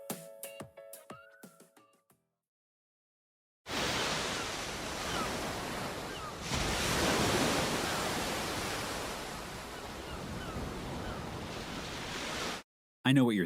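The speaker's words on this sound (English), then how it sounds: "the ocean recording connects to today's topic" Ocean waves breaking on a shore, a loud, continuous roar of surf with a swell midway, preceded by a short stretch of faint scattered sounds and silence, cutting off abruptly near the end.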